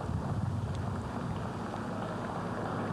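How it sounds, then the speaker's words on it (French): Wind blows across an outdoor 20 km race walking course in Monterrey, a steady, full rushing roar with some microphone buffeting, loud and continuous with no clear voices. "le vent qui s'est un peu levé sur le parcours"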